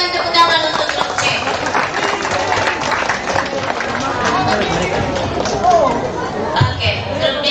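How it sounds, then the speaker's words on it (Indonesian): Applause for a quiz team at a school competition, with dense, steady clapping mixed with crowd noise and chatter running the whole time. "Berikan tepuk tangan untuk grup C."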